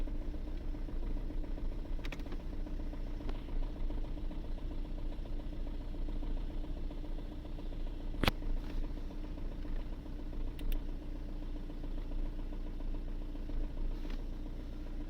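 A Fiat Linea engine idling roughly, with a fault that makes it blow white smoke. Its low, steady hum sits at a fairly quiet level, broken by a few sharp clicks and ticks.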